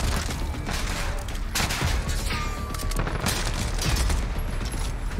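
Heavy gunfire in Call of Duty: Modern Warfare, continuous bursts of rifle and automatic fire mixed with booming impacts, dense and loud throughout with no one talking.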